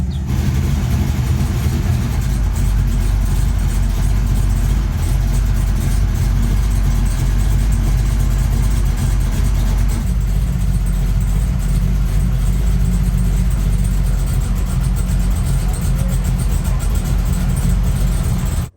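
A 1986 Camaro Z28 with a rebuilt 350 V8 runs steadily on its first start, a deep, loud, continuous rumble through two mufflers, with a slight change in pitch around the middle as the revs shift.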